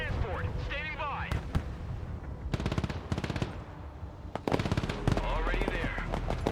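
Machine gun fire in the modern-war strategy video game Broken Arrow, with several rapid bursts of rattling shots, loud and close, mixed with radio-style voice callouts and background battle noise.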